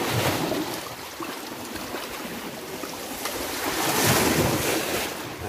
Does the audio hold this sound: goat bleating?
no